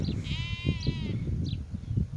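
Sheep bleating at Giant's Causeway in Northern Ireland, a quavering, drawn-out call rising over a low, rumbling wind-buffeted background, with a second fainter bleat shortly after.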